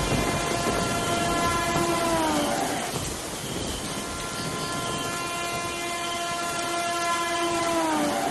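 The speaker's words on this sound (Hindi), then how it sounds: "रेलवे स्टेशन पर आखिरी ट्रेन आई।" A train pulls into a railway station at night, a loud steady rumble with long sustained horn tones that fade and return, continuous throughout with no talk.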